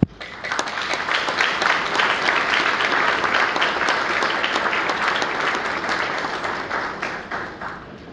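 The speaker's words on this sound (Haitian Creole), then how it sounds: "Je vous demande, mes très chers amis, de les applaudir." A large audience applauds at a formal award ceremony honouring fifteen winners, with sustained, dense clapping that swells quickly and holds steady for several seconds before easing off.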